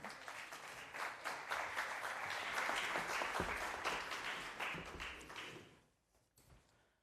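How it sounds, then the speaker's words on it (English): Audience applause at a higher education report presentation, a crowd clapping steadily and fairly close, swelling in the middle and dying away near the end, leaving a few scattered claps. "A big applause for him as well."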